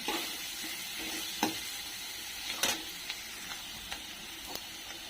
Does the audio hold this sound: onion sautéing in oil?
yes